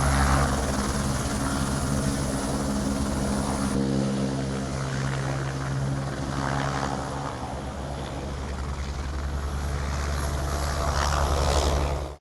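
A helicopter flies close by at a trade show event offering joyrides, its rotor and engine drone loud and steady throughout with a strong low hum.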